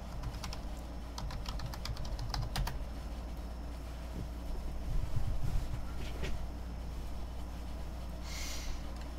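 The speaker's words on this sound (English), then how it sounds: "I will type the link." Typing on a computer keyboard during a craft livestream, a few quick bursts of clicks near the start with a low steady hum underneath, then quieter scattered taps.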